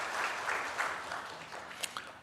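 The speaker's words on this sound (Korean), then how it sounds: "격려의 박수." A church congregation gives a round of encouraging applause during a Sunday service. The clapping is moderate and even, then thins out into a few scattered claps at the end.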